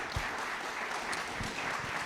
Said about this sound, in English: Let's give everyone that spoke tonight a round of applause